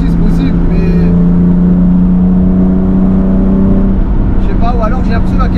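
A BMW E30 330i engine revs hard close by, a loud sustained drone that climbs and then drops away, with voices talking briefly near the end.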